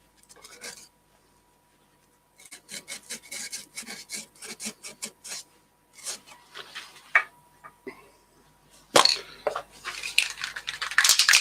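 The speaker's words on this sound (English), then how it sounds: "Just going to do a wee bit of hand sanding in here" Hand sanding inside a turned yew crotch bowl gives bursts of soft scratchy rubbing, close and fairly quiet, separated by brief pauses, with a sharper scrape near the end.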